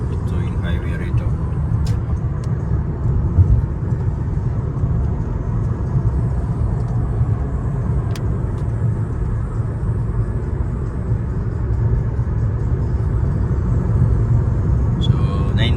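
Steady road rumble of a car cruising along the Circle Drive highway, a continuous low engine and tire drone filling the clip with no breaks, heard from inside the vehicle.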